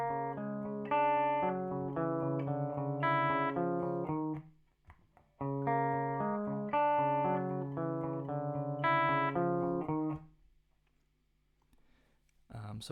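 An electric guitar with distortion plays the second riff of a song, a repeated pattern of rhythmic plucked notes played twice, each pass about four seconds long, with short pauses between passes.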